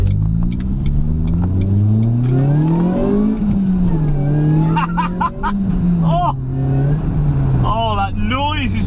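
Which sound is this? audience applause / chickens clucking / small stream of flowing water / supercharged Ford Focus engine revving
supercharged Ford Focus engine revving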